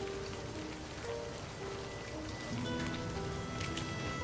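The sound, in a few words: rain falling, from a video game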